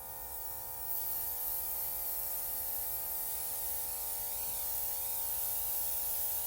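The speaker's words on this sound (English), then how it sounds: "I think I'm spraying it too much in one section" Airbrush-style spraying of makeup diluted with water, a steady close hiss with a faint electric motor hum that starts abruptly near the first second and runs on evenly without talk.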